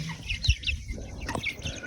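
Chicks clucking while feeding on potato, soft repeated clucks and chirps close by with a low thump near the start, no talk.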